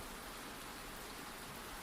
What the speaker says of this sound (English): the leaves swayed in rhythm with the steady hush of rain